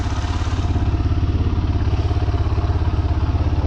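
A motorcycle engine runs steadily and loud throughout a solo ride on the road to Dupcheshwor Mahadev in Nuwakot, with a rapid, even low throb and no voices.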